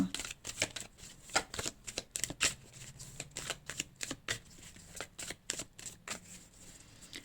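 Cards for a reading are shuffled and drawn close up, with a long run of crisp riffling snaps and soft slaps in an uneven rhythm.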